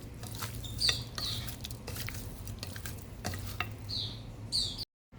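Marinated chicken wings with salt and pepper are mixed by hand in a bowl, producing soft wet squelching and slapping with a few clinks of the bowl, close and quiet, then a brief cut to silence.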